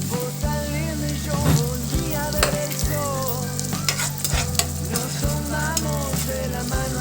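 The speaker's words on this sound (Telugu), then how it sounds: "సన్నగా తరుక్కున్న ఉల్లిపాయ వేసుకోవాలి బాగా ఫ్రై చేసుకోవాలి" Thinly sliced onions and tomato puree fry and sizzle steadily in a pan for paneer butter masala, with frequent scraping and stirring clatter over a continuous hiss, close and fairly loud, no voices.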